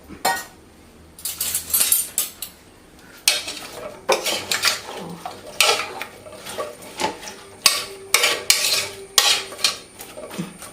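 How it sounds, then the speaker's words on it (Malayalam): A metal spoon scrapes and clinks against a pot of Kerala yam curry in repeated bursts of stirring, close and fairly loud, with no talking. "ഞാനൊന്ന് ഇളക്കി കാണിക്കാം"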